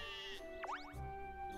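A goat gives a single wavering bleat in the Professor Layton game Layton's Mystery Journey, a short tonal cry over a quiet, sustained musical background.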